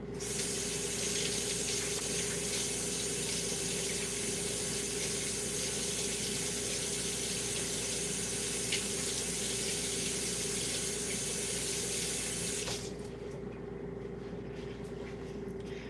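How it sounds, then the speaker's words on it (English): Water runs steadily from a kitchen tap as hands are rinsed under it, a loud, even splashing rush. It stops abruptly near the end, leaving quiet room tone. "I'm gonna rinse my hands really quick"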